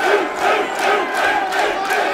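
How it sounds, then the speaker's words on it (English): Loud, roaring crowd noise at a 135-pound professional MMA contest, a dense swell of shouting and cheering from many spectators that surges in waves throughout the brief stretch. "If you can hear the crowd, very loud."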